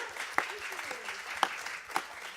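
Audience applause at a spiritual talk, a broad steady wash of clapping with a few sharper individual claps standing out, fairly close and continuous with no voices over it.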